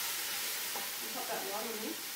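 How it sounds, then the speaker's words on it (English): Carrots frying in a pot are stirred, giving a close, continuous hiss and sizzle with soft scraping, while a voice murmurs in the background. "We'll just give that a bit of a stir."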